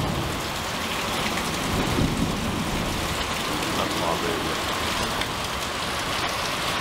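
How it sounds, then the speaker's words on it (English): Steady heavy rain pours during a thunderstorm, a dense unbroken hiss with low rumbles of thunder rolling beneath it, close and enveloping, no talk. "They say you could tell how close a storm is by how separate the lightning is from the thunder."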